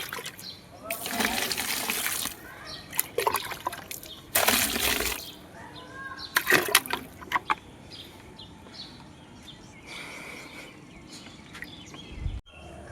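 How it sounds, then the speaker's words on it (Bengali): Water is poured into the corners in several separate splashing, trickling bursts with quiet gaps between them, close by, alongside occasional talk. "জল দিয়ে দিই, কোনা মধ্যে দিয়ে দিই"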